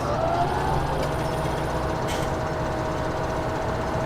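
A mowing vehicle's engine runs at a steady, constant drone in a farming video game, loud and continuous.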